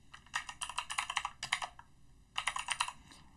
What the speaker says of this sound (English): we do that by typing assert dot assert equals